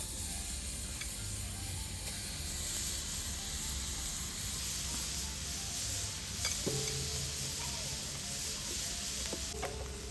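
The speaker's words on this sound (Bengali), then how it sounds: "উনুনটা ধরিয়ে একটা কড়া বসিয়ে দিয়েছি পুরনো নারকেলটা দিয়ে দিচ্ছি" Grated old coconut tipped into a hot kadai on a lit stove hisses and sizzles steadily, with soft stirring scrapes and a few clinks near the end, close and fairly quiet throughout.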